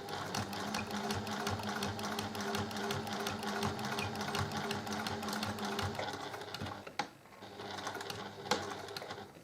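A sewing machine stitches a fabric key ring, including reverse stitches over a corner, in a fast, rapid rattling run that is close and steady for most of the time, then briefly stops and restarts.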